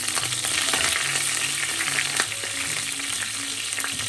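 Urad dal, dried red chillies and curry leaves crackle and sizzle in hot oil, a steady close frying hiss with faint sparse pops and some stirring, with no talking.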